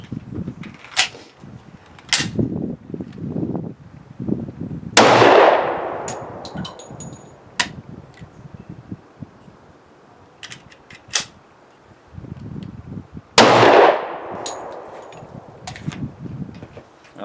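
Two loud, sharp shots from a brand-new Smith & Wesson 10mm pistol during test firing, spaced several seconds apart, each with a short ringing tail, amid scattered metallic clicks and handling clatter of the slide and magazine.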